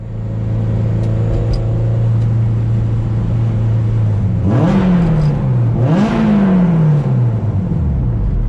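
A modified 2000 Toyota MR2 Spyder with bolt-on upgrades idles loudly and close, then twice revs and accelerates hard, engine pitch climbing and dropping between pulls, no voices.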